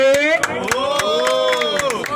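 A rap battle crowd yells and cheers with sustained shouting, punctuated by sharp claps or hits, loud and close throughout.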